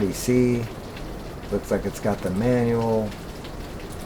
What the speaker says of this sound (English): It's really raining, so if you hear that in the background, that's the rain.